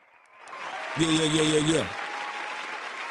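An audience applauds and cheers for Dominique Davis on a talk show, a short loud burst of clapping that rises and fades within about a second, with a voice speaking around it.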